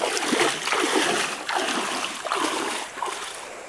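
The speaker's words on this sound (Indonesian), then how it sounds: "Mandi sebentar di sebuah anak sungai untuk menyegarkan beberapa anggota tim sebelum kembali ke desa." People bathing in a small forest creek during a village field trip, with steady close water splashes and rushing stream noise throughout, some sloshing bursts, faint voices underneath.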